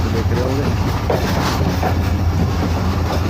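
Passenger train pulling out of Karachi Cantt station in Pakistan, a steady low rumble with faint wheel clatter filling the whole stretch while someone talks over it.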